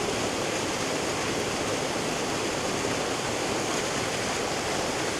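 Steady broadband roar of falling water from several waterfalls, continuous and even throughout with no voices, close and fairly loud.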